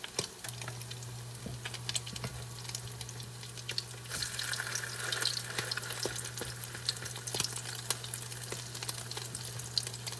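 Salmon patties fry in a pan and turn nice and brown, giving a steady close sizzle with scattered crackles and pops over a low constant hum. No one speaks.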